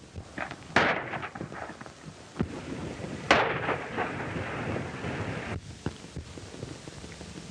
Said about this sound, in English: I never saw such a darn country where people started shooting at each other for no dad-burn reason.